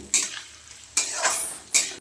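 Onions and green chillies fry in oil for chicken kosha, with three distinct bursts of stirring and sizzling separated by quieter frying, and no talking.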